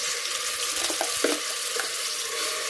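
Spice paste fries in oil in a pressure cooker pot over a medium flame, a constant close hiss with faint bubbling pops, and no voices.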